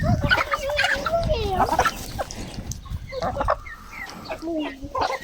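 Chickens cluck and squawk busily up close while eating mulberries from people's hands, a rooster's voice among them, with scratching and pecking sounds under occasional nearby talk.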